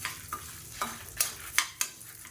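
Black urad dal dry roasting in a pan, a few distinct scraping stirs with faint rustling of the lentils between them, fairly quiet and close.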